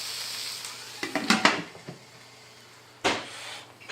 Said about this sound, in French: Donc on va mettre le couvercle.